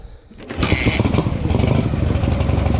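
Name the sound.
motorcycle engine as the rider sets off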